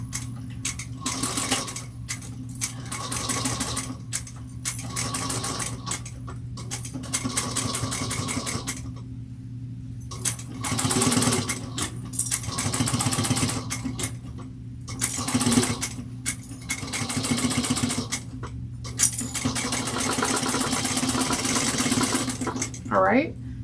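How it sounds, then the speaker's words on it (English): A sewing machine stitches a 3/8-inch seam with back stitching at each end, rhythmic mechanical chatter that starts and stops in repeated runs with brief pauses between them. "we're going to sew this together at 3/8 of an inch"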